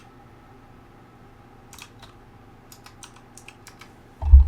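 Typing on a computer keyboard at a desk, a quiet scatter of soft key clicks in short bursts over a steady fan hum, ending with a louder low thump.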